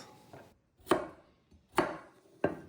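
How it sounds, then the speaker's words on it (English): A knife chops carrots into chunky pieces on a board: three crisp, close knocks spaced roughly a second apart, with quiet gaps between them and no talking. "I'm going to cut these carrots into good-sized pieces"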